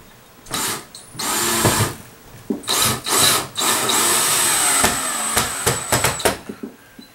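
Power drill driving screws into wood during a shop upgrade, heard as bursts of high whirring that rise and stop repeatedly, loud and close, with short gaps between runs.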